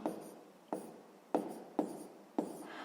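A pen scratches out a sixth-grade percentage problem on paper in five short, separate strokes, each starting sharply and fading, close and quiet with no voice.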